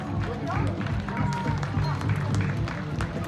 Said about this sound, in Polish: jeszcze raz wielkie brawa